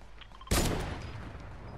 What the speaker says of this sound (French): ça tire là-bas, on les voit